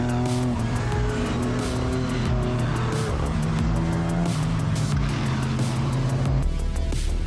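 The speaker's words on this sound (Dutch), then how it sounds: "Hier aan boord bij de M240i van Pieter-Jan Lefevre van Alcover Racing Team zien we die opperste focus van de coureur." Onboard a BMW M240i race car at Zandvoort circuit during a Dutch Racing Trophy race, the engine roars loudly and continuously with shifting pitch through acceleration and gear changes, plus tire and wind noise.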